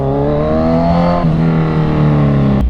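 A motorbike engine runs steadily on the road, its droning tone holding level, then shifting pitch partway through as the revs change, loud and close with no voices.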